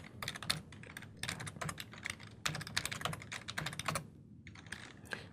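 Clattering keystrokes on a computer keyboard during command-line work, quick irregular bursts of close clicks with short pauses between runs, no talking.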